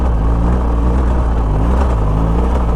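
BMW GS motorcycle engine held on steady throttle while climbing a rocky hill, a close, loud and continuous rumbling drone with no talk.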